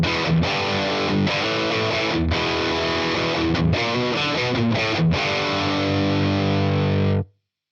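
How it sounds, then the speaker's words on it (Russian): Boss Katana-100 MkII guitar amp on its Brown channel plays a heavily distorted metal riff, with chugging palm-muted chords and brief gaps, loud and alone, ending abruptly. "Классический метальный рифовый звук."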